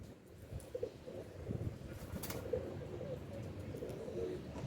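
Pure Teddy breed female pigeon cooing softly in a loft, low repeated coos with faint chirps and light background noise, no talk.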